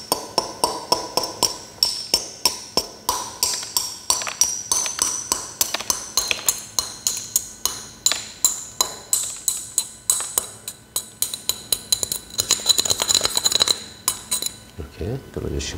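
A plant pot being drilled near its existing drainage hole, heard as a fast run of sharp clicking, ticking taps that keep going for several seconds before stopping, with a low thump at the end.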